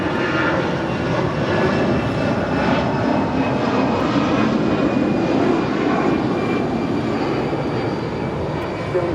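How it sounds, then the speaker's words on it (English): An American Airlines A320 taking off from Los Angeles International Airport, a loud steady jet engine roar held evenly throughout. "This is American Airlines Flight 335 departing to Phoenix, Arizona on an A320."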